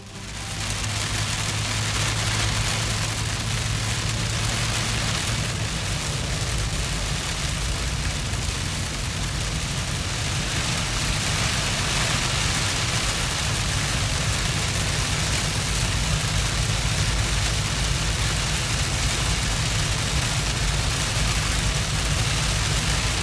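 A heavy rain downpour hammers a vehicle on a road trip in Newfoundland, a loud, constant wash of noise over a low engine rumble that continues unbroken.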